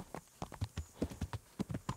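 Rhythmic hoofbeats from a horse ridden in a video game, brisk paired clops at a steady trotting pace, close and distinct with no talking.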